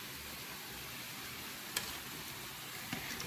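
Funnel cake batter frying in hot oil gives a steady, even sizzle throughout, with a couple of faint ticks and pops over the constant hiss.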